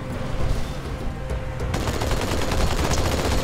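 Halo 2 campaign gunfire on the Outskirts level rattles loudly and continuously, with dense rapid automatic fire building after a brief opening stretch.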